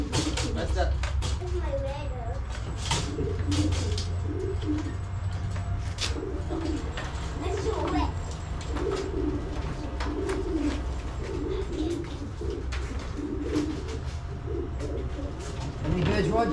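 Pigeons coo in repeated soft, throaty rolls during basketting for a 280 km pigeon race at Raetihi, close and steady over the whole stretch, with people talking nearby and scattered knocks and shuffles.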